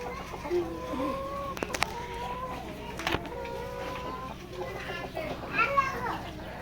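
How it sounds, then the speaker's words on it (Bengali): Roosters and hens clucking and crowing at a layer poultry hatchery, with several fowl calls rising over a steady background hum and faint voices of children nearby. "মোরগ মুরগি"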